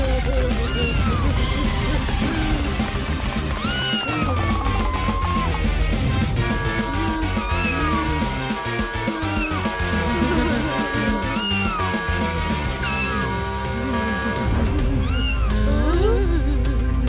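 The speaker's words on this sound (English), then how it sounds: "I think a kitten needs my help right away." A kitten meows repeatedly in an animated children's cartoon, with plaintive, rising cries layered over a busy, continuous musical score.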